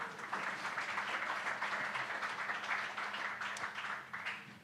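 An audience applauding a speaker at a Nerd Nite talk event, a sustained, even wash of many hands clapping heard at moderate distance, tapering off at the end.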